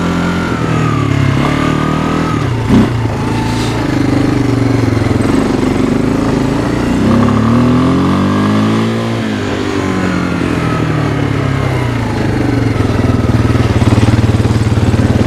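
A 2001 Kawasaki Lakota ATV engine drones loudly and continuously, rising and falling in pitch as the throttle shifts while riding along, close and unbroken.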